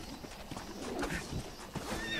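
Horse in the Red Dead Redemption video game, whinnying and clopping hooves up close over a steady background din.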